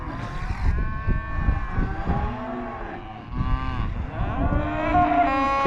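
Cattle moo repeatedly on a ranch, several long, loud, close lowing calls overlapping one another, with no talk.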